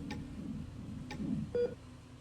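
A phone being dialed in the game SCP Secret Files: a few faint key clicks over a low background hum, then a short, steady beep tone near the end.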